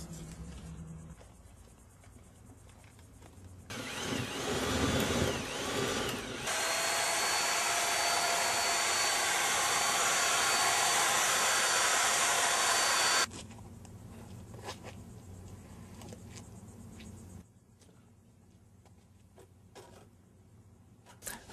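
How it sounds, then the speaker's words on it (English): A drill-driven paddle mixes Super Stone Wet & Ready concrete overlay in a 5-gallon bucket, a loud sustained whir running several seconds after a rougher start, with quieter workshop noise before and after. "You're going to mix approximately 2 to 3 minutes to a milkshake consistency"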